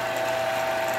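The lathe drive engages on a Smithy CB-1220 XL lathe-mill combo machine, giving a steady close mechanical whir with a constant tonal hum and faint gear rattle throughout.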